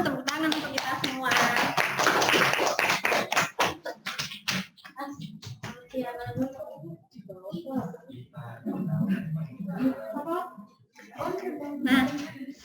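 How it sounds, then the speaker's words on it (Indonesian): Classroom applause during a science microteaching lesson, with several seconds of dense, loud clapping from students, then talk and scattered claps continuing over the rest of the clip. "sekarang tepuk tangan untuk kita semua."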